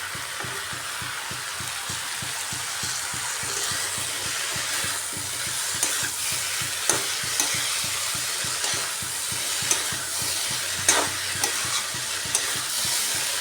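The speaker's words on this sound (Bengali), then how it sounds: "খুব ভালো করে কষিয়ে নিচ্ছি।" Dried fish and mixed vegetables stir-fry in a pan with a steady low sizzle, punctuated by repeated scraping and clinking of a spatula stirring, no voices present.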